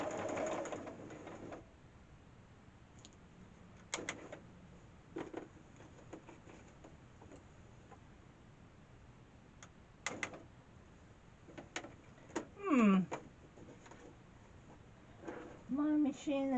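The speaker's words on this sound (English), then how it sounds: "Drop your needle and sew down." A home sewing machine stitches down single-fabric quilt binding in short, intermittent bursts with clicks and taps between runs, fairly close but moderate in level.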